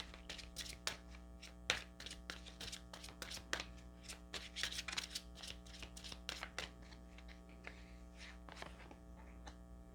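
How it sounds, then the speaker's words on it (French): Tarot cards drawn from a deck, a run of soft, quick papery slaps and flicks, some in clusters and some alone, over a steady low mains hum with no talking. "Je prends trois cartes ici."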